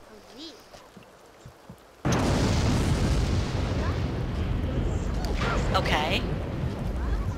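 A tree catching fire in The Sims 2 breaks in abruptly after a quiet stretch with a loud whoosh, settling into a steady, roaring crackle of flames that continues under brief speech.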